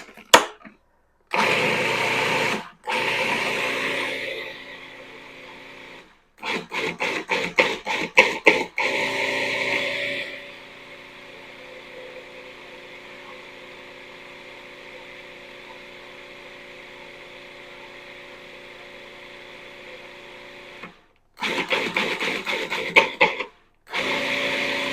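An electric mixer blends almond paste with powdered sugar, the motor whirring loudly in short bursts, then settling into a long, steady, lower drone before starting up in bursts again.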